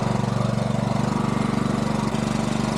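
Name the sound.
portable generator running at a worksite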